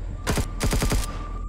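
A rapid burst of gunfire aimed at Zirax soldiers in Empyrion Galactic Survival, several sharp shots in two quick clusters, loud and close over a faint steady hum.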